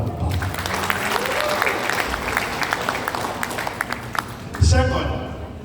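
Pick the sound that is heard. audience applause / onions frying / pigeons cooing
audience applause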